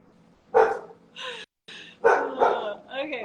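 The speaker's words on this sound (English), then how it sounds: "my dog agrees because she's just barking" A pet dog barks and yips several times at close range in short sharp bursts, with someone talking alongside.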